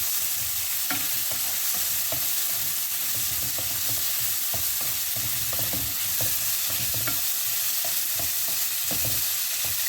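Chopped green chillies, carrots, and ginger garlic paste stir-fry in a pan for chicken seviyan. A steady sizzle runs under repeated scraping stirs and clinks throughout.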